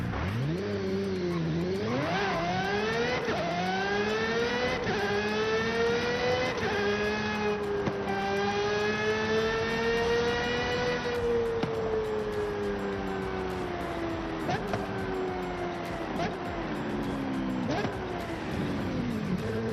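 An Aston Martin Valkyrie AMR Pro in Forza Horizon 5 screams through repeated high-revving gear pulls, its engine rising in pitch again and again with quick shifts, loud and continuous throughout the clip.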